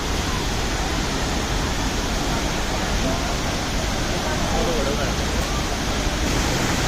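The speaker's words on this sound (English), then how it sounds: "There's the waterfall." The BanJhakri waterfall rushes in a loud, constant broadband roar that stays steady and unbroken throughout, close and filling the scene.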